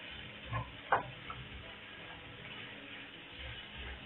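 Fried eggplant stirred with softened vegetables in a frying pan: a few soft utensil scrapes and taps near the start, then a quiet, steady low background with no further distinct strokes.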